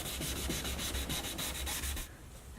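Steady abrasive rubbing of a P800 sanding disc on a hazy plastic headlight lens, with a rhythmic back-and-forth scratch that cuts off near the end.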